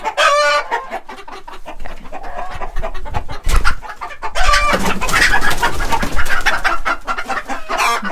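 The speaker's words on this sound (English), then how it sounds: "Lucy, my Rhode Island Red, my Polish hen DeVille, this little bantam guy" Hens cluck and crow loudly and close by, including a Rhode Island Red, a Polish hen and a bantam, in an almost continuous busy stream of calls.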